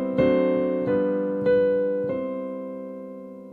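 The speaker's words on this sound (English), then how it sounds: "a D dominant 7th chord here, and then play the G dominant 7th, then back to C" Piano chords struck one after another, four clear attacks about half a second apart, each ringing on with sustained harmonics, moving from a D dominant seventh toward G in a jazz progression; solo instrument, close and moderately loud.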